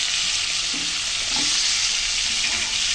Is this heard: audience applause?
no